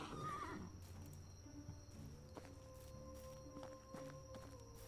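A horse in the medieval video game Medieval Dynasty whinnies at the start, followed by a softer clip-clop of hooves and faint rhythmic movement, heard alone and close.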